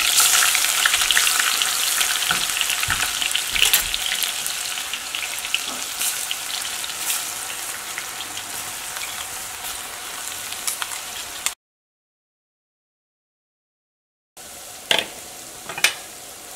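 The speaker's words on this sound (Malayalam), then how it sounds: "ഇതെല്ലാം കൂടിയിട്ട് നന്നായിട്ടൊന്ന് വഴറ്റിയിട്ട് എടുക്കാം." Ginger, garlic and green chilli sauté in hot oil in a pan, a steady bright sizzle with occasional stirring scrapes, broken by a brief silent gap before the frying resumes with a few sharper clatters.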